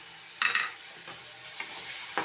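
Soybean, potato and pea curry is sautéed in oil with spices, giving a soft steady sizzle broken by several distinct spatula scrapes and stirs at irregular intervals.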